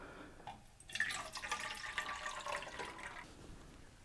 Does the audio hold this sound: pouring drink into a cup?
yes